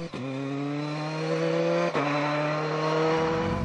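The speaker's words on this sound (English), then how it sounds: "Dave Corris and Carrie McAvoy in the Escort World Rally car" A Ford Escort World Rally car on a rally stage holds a loud, steady engine drone close by, with a sharp gear change midway before the engine note climbs again.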